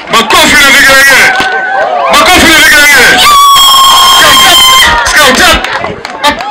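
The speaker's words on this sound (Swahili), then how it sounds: "makofi na vigelegele." A crowd of students and guests at a school Scout training event claps and ululates loudly, with dense, continuous cheering, high trilling cries and shouts filling the space.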